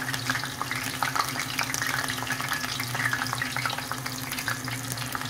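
Taco fillings frying in hot oil in a cast iron pan, a dense continuous sizzle and crackle, close and steady throughout with no talking.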